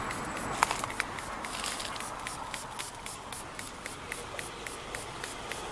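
Würth rain repellent spray hisses onto car glass in a steady, close spray lasting several seconds, with faint crackles and no talking.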